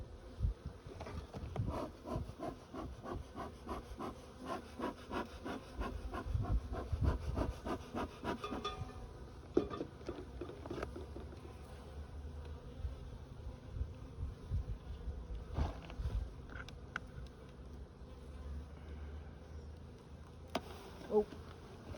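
A swarm of agitated honeybees hums loudly and persistently at close range, with scraping and rubbing noises of hive work mixed in.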